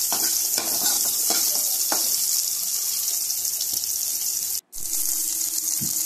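Onion and green chillies sautéing in a pan for sambar give a loud, steady sizzle, broken by occasional scraping stirs and one brief dropout near the end.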